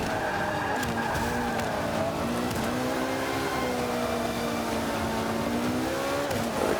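Race car engines roar continuously in an Xbox One racing video game, with pitch rising and falling through gear changes and tire squeals mixed in, loud and close with no talking.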